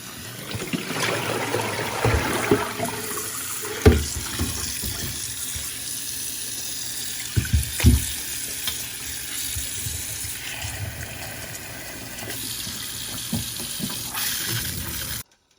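A tap runs steadily into a sink for a long stretch, with a few sharp clunks and splashes as raw meat is handled and rinsed under the stream.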